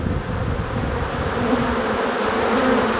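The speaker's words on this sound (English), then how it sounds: "There are some bees doing a little fanning here." Africanized honey bees buzz steadily around a queen cage in a hive, with some bees fanning their wings, a dense continuous hum close by with no talking.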